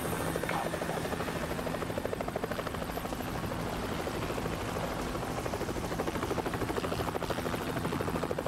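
Helicopter in the video game Rise of the Tomb Raider, a steady close rotor thump with a dense buzzing drone that holds at constant loudness throughout, with no talk.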